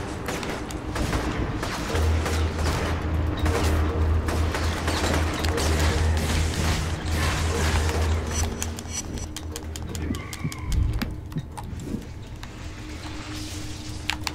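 Gunfire in the video game inFamous: bursts of shots and crackling impacts keep coming in a busy, loud battle, mixed with deep rumbling and a person talking over it.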